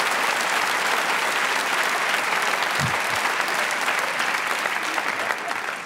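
Audience applause at a live comedy podcast taping, a dense, steady wash of many hands clapping that holds at full strength for the whole stretch, with a brief low thump partway through.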